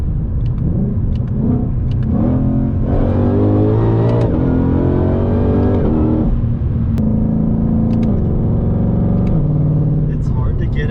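An automatic Ford GT500 accelerates hard, its engine revving loud and close in rising sweeps with quick gear changes, someone talking over it throughout.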